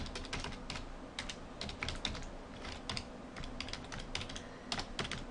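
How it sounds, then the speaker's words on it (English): Fingers tap out a domain name on a computer keyboard in quick, uneven bursts of close, crisp keystrokes, with no talking. "And I'm going to type in Wealth Creation Online."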